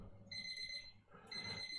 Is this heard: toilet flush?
no